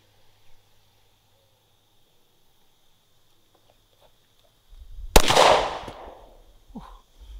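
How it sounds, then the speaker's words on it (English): A gunshot fired at a bulletproof baseball cap outdoors: one sharp, loud crack with a ringing decay after a quiet stretch, with a faint tap before and a smaller sound near the end. "Let's throw a couple more rounds at the front."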